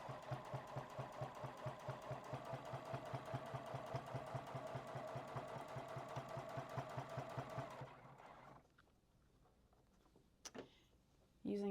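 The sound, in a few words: sewing machine topstitching quilt binding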